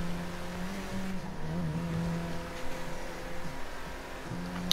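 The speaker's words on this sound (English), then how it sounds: "let's just go for a morning drive" A car engine in GTA 5 drones steadily with shifting revs and brief acceleration surges, a moderately loud continuous motor tone with no talking.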